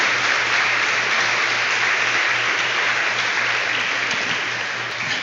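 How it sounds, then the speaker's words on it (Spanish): Congregation applauding during a Sunday church service, a dense, continuous roar of clapping that holds steady throughout with a low hum beneath. "Dale un gran aplauso al Rey de Reyes y Señor de Señores"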